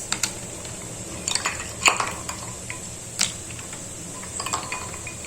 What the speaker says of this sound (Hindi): इसमें थोड़े से आइस डालेंगे, आइस क्यूब्स